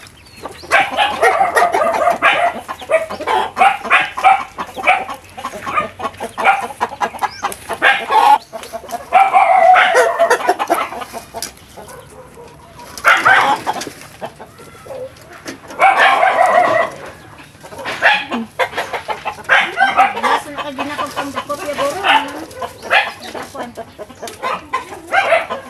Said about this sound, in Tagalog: Manok na to. Manok ng aking kuya.